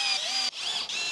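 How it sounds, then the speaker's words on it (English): A power driver whines steadily while driving small 3.5 by 16 Forge Fast screws into a router table fence, a close, high-pitched motor tone broken by two brief dips as each screw seats. "I'm just going to bang in these little forge fast screws again"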